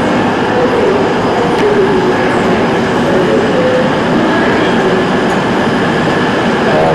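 Rail noise fills a station platform around a Class 170 train in the evening, a continuous close rumble with faint clatter and no clear speech.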